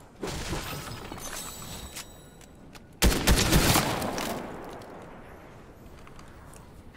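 Rapid-fire gunfire in a PC video game comes as quick trains of sharp clicks and cracks, with a louder, denser burst midway that then tapers into a fading rumble.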